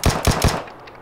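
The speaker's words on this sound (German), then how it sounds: "Ich will damit die Shotgun rüber schießen." Three rapid, loud shotgun shots from the battle royale game PUBG, close and punchy, fired in quick succession before a fading tail.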